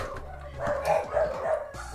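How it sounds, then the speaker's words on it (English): Several dogs bark in repeated bursts in a room, moderately close, with a steady low hum underneath and no talk over them. "I gotta get up and stop my dogs from barking"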